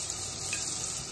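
Chopped garlic sizzles in hot cooking oil in a brief, soft, steady hiss of frying.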